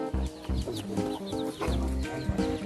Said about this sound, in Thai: อันนี้เขาปล่อยแบบธรรมชาติเลยนะ ให้มันแบบว่าคุยเขียดคุยเขียเอา นะ เพราะไก่พวกนี้จะแข็งแรงมากเลย